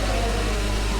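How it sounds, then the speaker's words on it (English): A Formula 1 race car in the rFactor F1 2020 game at the Vietnam Grand Prix, its engine droning loud and steady in a brief, close pass with no talk. "There goes the other car."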